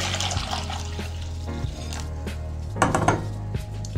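Hot water is poured into a pot while mozzarella is being made at home, with metallic clinks and clatters of the pot and utensils over a low steady hum, ending in a brief burst of splashing.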